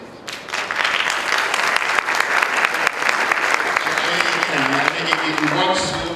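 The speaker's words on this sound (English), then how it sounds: "Can I just ask you to give him a round of applause, please?" An audience at a conference opening ceremony bursts into loud, dense applause that carries on steadily throughout, with a few voices surfacing near the end.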